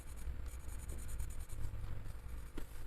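Colored pencils scratch and rub steadily across paper, a soft continuous close-up scribbling texture with no voices.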